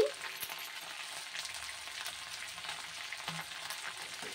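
Ingredients for a coriander and red chili chutney frying in a pan, a soft, steady sizzle with a few faint spatters and scrapes, fairly quiet and without talk.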